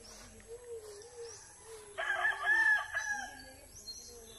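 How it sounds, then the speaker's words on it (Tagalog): A rooster crows once in a clear, drawn-out call at moderate distance in a rural provincial setting, preceded by quieter bird calls and low background murmur. "Lalaking manok."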